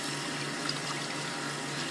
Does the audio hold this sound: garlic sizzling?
no